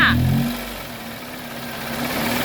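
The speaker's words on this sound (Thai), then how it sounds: "เดี๋ยวเราจะลองเร่งเครื่องดูนะคะ" A Chevrolet Sonic engine with a faulty air-conditioning compressor revs up briefly at the start, then settles into a steady mid-pitched drone before rising again toward the end.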